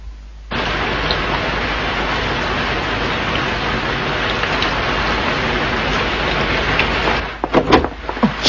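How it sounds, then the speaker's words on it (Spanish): Heavy rain falls outside in a steady, dense, loud hiss that holds for several seconds, then drops away into a few scattered knocks and rustles. "Señorita Helen, se va a resfriar si sale con esta lluvia."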